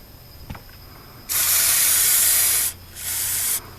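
Spray through a nozzle into the floor of a 1978 El Camino during rust patch panel work, two loud hissing bursts, a long one then a shorter one, close by after a faint click.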